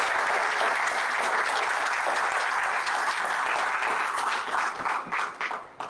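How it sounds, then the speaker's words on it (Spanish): Steady applause from a crowd at a religious freedom summit in Santander, Colombia, dense and sustained, thinning into a few scattered claps at the very end. "Un aplauso para ustedes por todo el trabajo que ustedes realizan."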